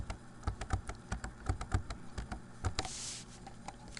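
Someone types on a computer keyboard while entering zeros into an Excel spreadsheet: quick, irregular clicking keystrokes, close but soft, with no talking.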